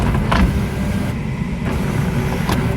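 Power sunroof on a 2003 Acura TL Type-S sliding open, a steady electric motor whir heard close inside the car, running continuously with faint clicks at the start and end.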